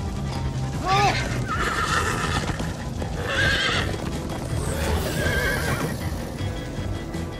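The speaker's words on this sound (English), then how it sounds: "Slow down, horse!" In the Minecraft Story Mode video game, a horse whinnies several times in separate bursts while hooves clop steadily underneath, a voice occasionally cutting in among the sounds.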